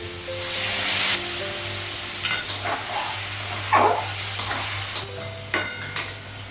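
Water splashes into a hot pan and sets off a burst of sizzling, followed by bright clinks and scrapes of a utensil stirring soybean chunks in a pan, close and fairly loud over a low steady hum.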